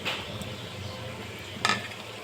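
A spoon stirs ground cumin, coriander, chilli, sugar and salt into frying masala in a pan, with a soft continuous sizzle and one sharp scrape against the pan partway through.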